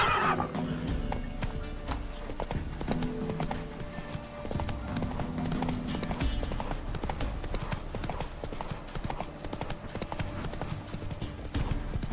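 Roach, Geralt's horse in The Witcher 3, gallops with steady rhythmic hoofbeats and neighs loudly near the start, the clip-clop continuing close and clear throughout.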